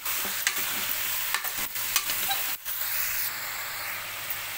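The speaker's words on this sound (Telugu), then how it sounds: "రుచికి సరిపడంత ఉప్పు, ఒక స్పూన్ పసుపు వేసుకొని ఒకసారి కలుపుకోవాలి." Village-style mutton curry being stirred in a pot after salt and a spoon of turmeric go in, close frying sizzle with scraping spoon strokes and a few sharp knocks, no talking.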